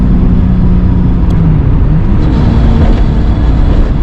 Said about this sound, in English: Just love that turbo sound as it comes off.